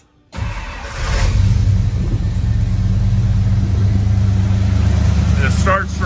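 A 1972 Ford F250 4x4 truck engine cranks and catches after a short pause, then settles into a loud, steady low rumble that holds close by for several seconds, with a faint voice briefly over it near the end.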